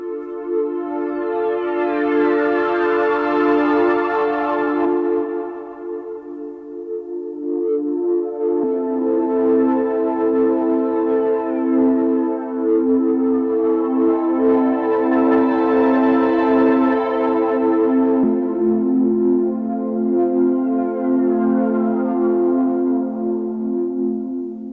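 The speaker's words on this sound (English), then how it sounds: "we are going to take a look at creating an ambient patch on the Novation Peak" Ambient pad patch played on a Novation Peak synthesizer: sustained, slowly swelling chords with shimmering sweeping overtones, changing harmony every few seconds, loud and continuous without any talk.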